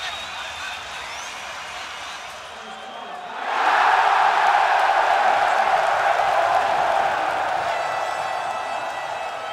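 Football crowd at the Cambuur stadium, a broad roar of cheering that swells suddenly partway through and then holds steady, with a commentator talking over it.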